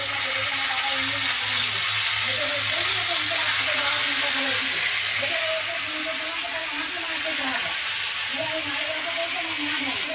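Leafy greens frying in a pan give a loud, steady hiss and sizzle up close, with continuous tonal background sound running underneath and no clear speech.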